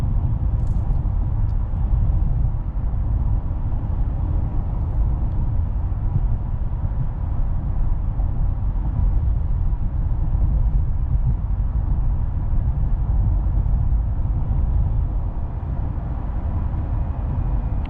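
A 2019 Honda Passport cruising on a highway, heard from inside as a steady, loud low road rumble and engine drone with constant tire noise and no talking.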